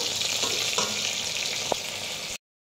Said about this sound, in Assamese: এয়া এফালে মই মাছ ফ্ৰাই কৰি আছোঁ